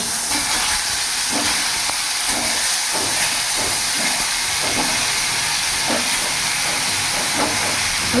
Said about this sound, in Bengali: তেল আমার গরম হয়েছে, এরই মধ্যে আমি সামান্য লবণ দিয়ে দেবো আর সামান্য একটু হলুদ দিয়ে দেবো, তাহলে তেলটা ছিটকাবে না। এরই মধ্যে আমি পটলগুলো ছেড়ে দেবো।